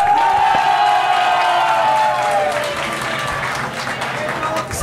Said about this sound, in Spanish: Y aplausos para Casey Pop.